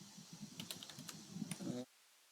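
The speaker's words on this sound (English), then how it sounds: "I will type here that" Computer keyboard typing while coding in Eclipse on Linux, a quick run of soft, close key clicks lasting under two seconds before it stops.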